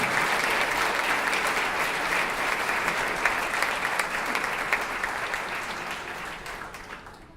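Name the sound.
audience applause welcoming harpist Marcos Lucena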